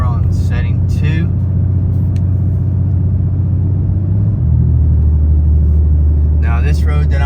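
Modified Ram 2500 Cummins diesel truck towing a large camper in tow haul mode, a steady low engine drone rising slightly in pitch partway through, with someone talking over it at the start and end.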